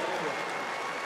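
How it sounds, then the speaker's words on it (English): A crowd applauds at the finale of a strongman power stairs event, with dense continuous clapping mixed with voices throughout. "show your appreciation, massive round of applause."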